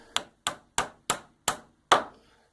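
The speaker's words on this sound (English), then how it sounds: "I'm going to hit it like this, and then move the hammer that way." Six sharp, evenly spaced hammer blows strike wood while a workbench is being built, each crack loud and close with a quick decay and nothing else in between.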